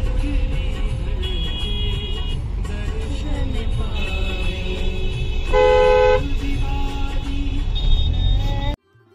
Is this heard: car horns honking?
yes